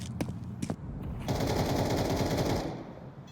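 AK rifle fire in Counter-Strike: a couple of sharp single shots, then a dense automatic burst lasting over a second, loud and close.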